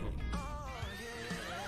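A horse in The Sims 4 whinnies with a high, shaky neigh that wavers and falls in pitch over a low rumbling background.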